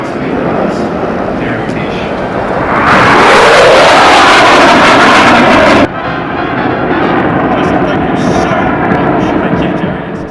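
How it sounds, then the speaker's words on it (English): A loud engine drone builds as a 100-year-old propeller plane sweeps past a few meters above the ground at the Warbirds over Wanaka air show, pitch dropping as it passes, then cuts to a steadier roaring rumble. "And at the same time as that 100-year-old plane was flying only a few meters above the ground, Burt Monroe's Indian raced along the tarmac"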